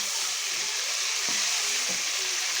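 Chicken liver (kaleji) fries in a kadhai with tomato, ginger-garlic and green chilli paste, giving a steady loud sizzle throughout with a couple of faint stirring knocks.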